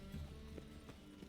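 Roach the horse's hooves clip-clop in The Witcher 3: Wild Hunt, a brief run of a few soft, quick steps at a moderate distance.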